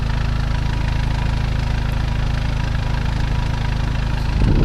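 Stage 3 MK7 VW Golf R idling outside with the air conditioning running, a steady low drone holding even for several seconds before a brief rougher swell at the end.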